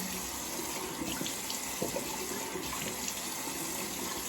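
Cold well water runs steadily from a tap into a sink, a close, continuous splashing hiss with small bursts as hands rinse a freshly shaved face.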